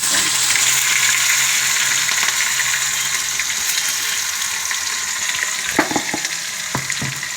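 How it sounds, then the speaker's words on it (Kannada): Green chili paste frying in hot oil over a tempering of spluttered mustard seeds, a loud, steady close sizzle with a few sharp pops near the end. "ಈಗ ಸಾಸಿವೆ ಸಿಡಿದಾಯಿತು ಈಗ ಇದಕ್ಕೆ ಹಸಿಮೆಣಸಿನ್ಕಾಯಿ ಪೇಸ್ಟ್ ಹಾಕ್ಕೊಂಡ್ರೆ"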